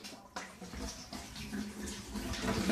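A Simplicity 1000 DC water pump winds up with a steady, rising whir and rushing-water hiss that gradually grows louder, heard alone without talk.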